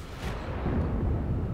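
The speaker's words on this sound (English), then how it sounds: "Some kind of explosion" A deep, rumbling explosion in the World War II shooter game Enlisted, a single heavy boom with a rolling low-end tail that lingers for over a second.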